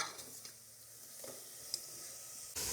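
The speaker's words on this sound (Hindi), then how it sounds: "3 से 4 मिनट हम गोश्त को फ्राई करेंगे" Beef sizzles steadily in a hot pan while being fried for a biryani korma, a soft continuous crackle with a few faint stirring knocks and no voices.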